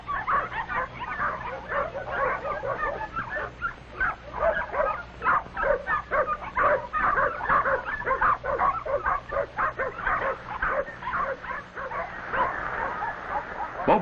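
A mother dog barks a warning near her puppies, a steady run of close, sharp barks and yips that continues for the whole stretch.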